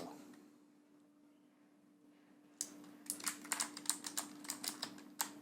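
Keystrokes on a computer keyboard while entering data in an Excel spreadsheet: quiet hum at first, then about two and a half seconds of close, irregular clicking taps, a dozen or so distinct presses.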